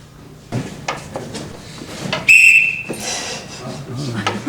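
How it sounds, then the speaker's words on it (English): A whistle blown once in a short, shrill blast inside a house in Damascus, set among knocks and clatter of doors or drawers nearby. "Checking out his whistle to make sure it still works in Damascus"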